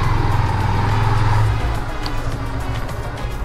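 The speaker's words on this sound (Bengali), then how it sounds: "গাড়িটা ঘোরানো হচ্ছে সব থেকে বড় পেইন।" A car being turned around on a hill road near Sajek, a close, steady engine drone with low rumble that eases slightly after a second or two.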